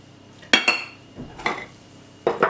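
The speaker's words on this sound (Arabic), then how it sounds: "هنا غادي نقومو اولا نخدمو الزبدة ديالنا مع السكر سنيدة" Butter and sugar being worked together in a bowl for a pastry dough, the utensil striking the bowl's side in a few sharp, bright clinks spaced irregularly, close and clear against a quiet room.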